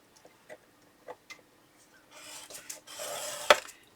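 A scoring tool is dragged across paper after a few light ticks of setting it in place. Then comes a close, steady scraping rasp that ends in a sharp click.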